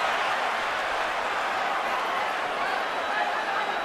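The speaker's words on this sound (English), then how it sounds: "Crowd gets excited as Canelo fires back with counter shots." A boxing arena crowd at the Canelo vs Golovkin fight roars and applauds in a steady, broad wash of noise, held at a distance beneath a commentator talking throughout.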